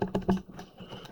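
Keys on a scientific calculator are pressed in a quick run of three sharp, close clicks, followed by softer, fainter taps.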